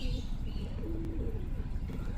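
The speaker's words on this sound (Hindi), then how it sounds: "ये देखें, हमारे कबूतर आ चुके हैं।" Soft, low cooing of trained loft pigeons murmurs steadily against a dense background rumble, with no voices present.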